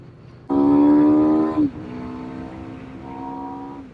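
A Junak M12 Vintage 400 motorcycle engine runs with a loud, steady harmonic drone that suddenly drops to a quieter, lower idle-like hum with a slight rise near the end.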